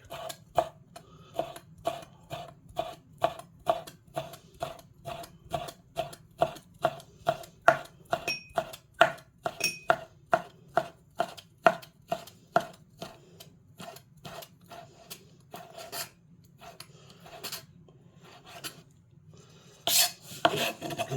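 A knife cuts vegetables into matchsticks on a cutting board, a long run of crisp, evenly spaced taps at about two or three per second, close and clear, loosening into irregular knocks toward the end, with no talking.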